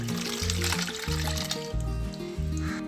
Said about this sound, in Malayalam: ഇനി ഇതൊരു പാത്രത്തിലേക്ക് ഒഴിക്കാം.